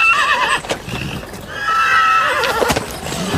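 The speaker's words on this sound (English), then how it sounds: "caught us a wild horse" A wild horse neighs loudly and close by, giving two long, wavering whinnies one after the other, with faint hoof clip-clop underneath and no talking.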